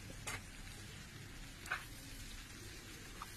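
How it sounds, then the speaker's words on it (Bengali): Chopped onions fry in white oil in a hot frying pan for egg chow, giving a steady, close sizzling hiss with a few sharper crackles. "ফ্রাইং প্যানটা গরম হয়ে গেলে এবার তার মধ্যে দিয়ে দিলাম কুচনো পেঁয়াজ।"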